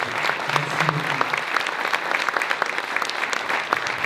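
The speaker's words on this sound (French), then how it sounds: "On peut déjà applaudir juste les artisans." An audience at a florists' competition awards ceremony applauds the artisans, dense loud clapping with sharp individual claps standing out, sustained throughout with faint voices underneath.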